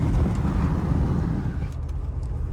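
A Mercedes G55 AMG with a 500 hp V8 drives along with a steady low engine drone and road roar from inside the cabin, easing slightly toward the end, with no talk.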